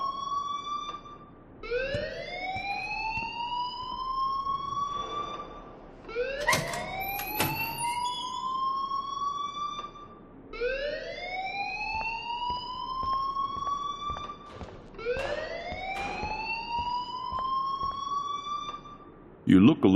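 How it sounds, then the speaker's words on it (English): A siren-like alarm wails in the Life is Strange video game, sounding as four rising whoops in a slow repeating cycle with short gaps between them. "please turn off that alarm since that's your job"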